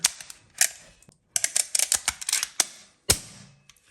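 Air pistol shots crack in quick succession, a burst of sharp snapping pops with short pauses, close and fairly loud, no talking.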